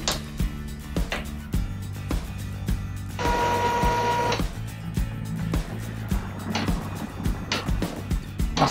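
An Epson T50/P50 inkjet printer running as it is switched off, with mechanical whirs and clicks over a steady hum and a brief louder motor whine midway, heard up close.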